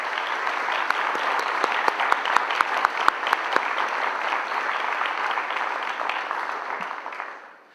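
An audience at a school district strategic planning meeting gives teachers and educators a steady round of applause, full and even with a few sharp individual claps standing out, before it fades away at the end.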